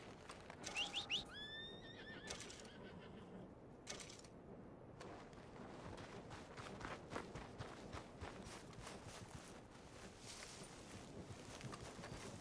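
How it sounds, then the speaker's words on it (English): A horse in a video game gives a short, high whinny near the start, followed by clip-clopping hooves and footsteps that carry on steadily through the rest. "Come here, horsey."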